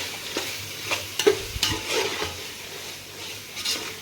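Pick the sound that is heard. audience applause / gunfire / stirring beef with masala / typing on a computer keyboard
stirring beef with masala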